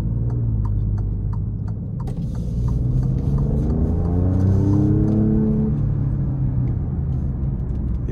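A 2022 Alfa Romeo Stelvio Quadrifoglio SUV idles with a deep exhaust rumble, then the throttle is blipped, the revs rising and falling in a few quick surges before settling.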